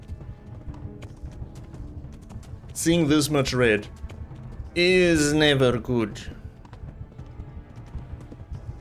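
Horse hooves clip-clopping at a gallop in the medieval game Kingdom Come: Deliverance, a steady rhythmic thudding running under two bursts of a man's speech.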